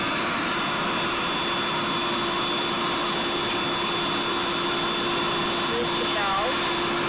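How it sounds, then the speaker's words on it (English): A built-in electric pump deflates a twin double-high air bed, a steady loud whirring drone with a constant tone running throughout, alone and close by. "So you can see it's deflating really quickly. Like, okay, so yeah, it makes a bit of noise, but no big deal."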